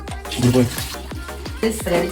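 Water pours and splashes nearby in short bursts, sloshing repeatedly with a voice speaking briefly over it.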